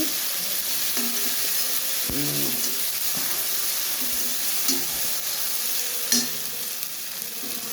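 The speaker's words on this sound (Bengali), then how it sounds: "তো এখন আমি কষাইয়া নিব মশলাটা অনেকক্ষণ কষাই নিব" Ginger, garlic and onion paste with spices frying in a pan, giving a loud, continuous hissing sizzle close by, with occasional stirring scrapes and one sharper knock near the end.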